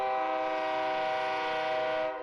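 A Via Rail Dayliner railcar on the E&N Railway sounds a sustained, loud multi-tone horn that holds steady for about two seconds before beginning to fade.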